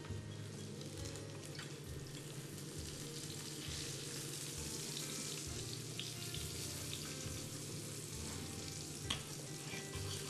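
Vegetables and mushrooms with pepper fry in oil in a pan, giving a dense, continuous close sizzle with light crackles for the whole stretch and no talk.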